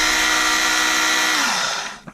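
A Work Sharp knife sharpener's belt motor whirs loud and steady, then spins down as the switch is released, ending with a small click.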